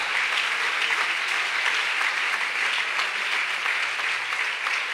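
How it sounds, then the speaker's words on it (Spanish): A church congregation applauds during a sermon, a continuous wash of clapping at steady volume for the whole span, with no voices standing out. "¿Quiere darle un aplauso mejor a Él?"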